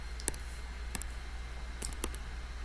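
Calculator keypad buttons are pressed while entering numbers, giving a few faint, sparse clicks with pauses between presses against a low background hum.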